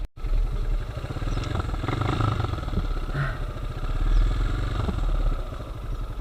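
A Zongshen 200cc motard motorcycle engine runs steadily close by, a hot engine resting after a steep mountain road climb, giving a continuous throbbing mid-pitched thrum with faint mechanical clatter and no gaps.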